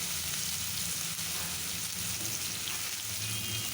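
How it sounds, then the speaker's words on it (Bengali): Teasel gourd (kakrol) pieces frying in hot oil, a continuous soft crackling sizzle close by, fairly quiet and even throughout with no talking. "তেলটা এসে গেছে এখন কাঁকরোলটা দিয়ে দিব"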